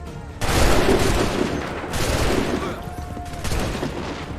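Soldiers fire a musket volley in Assassin's Creed III: a loud crackling burst of many shots at once, then a sustained rattle and a second volley about three seconds later, with shouted commands partly mixed in.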